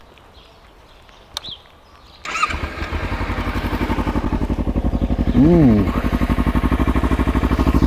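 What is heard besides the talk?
Kawasaki Ninja 300 motorcycle engine with Akrapovic exhaust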